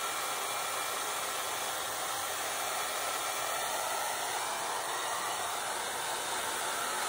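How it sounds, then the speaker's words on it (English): A handheld hair dryer runs steadily while drying long hair, a continuous loud rushing blow of air with no pauses and no talking. "So I have to get my hair dry."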